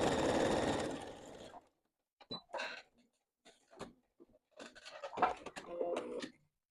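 A sewing machine stitches the two fabric ends closed in a short, close whirring run of about a second and a half, followed by quiet pauses and scattered small clicks and handling sounds.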